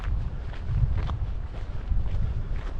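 Wind buffets the microphone in a steady, low rumbling roar with gusty swells, close and fairly loud, with no voices.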